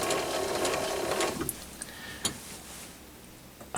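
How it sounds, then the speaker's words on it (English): A thread-cutting tool is wound in on an ML7 lathe by turning a handle on the back of the spindle, giving a soft mechanical whirring and ratcheting that fades into scattered faint clicks and ticks. "put the handle on the back of the ML7 spindle and wind the thread tool in"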